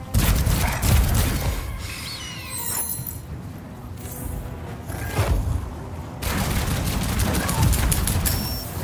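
Dense, continuous gunfire in the video game Outcast: A New Beginning, with rapid bursts and booming impacts, loud and close, with a voice talking faintly underneath.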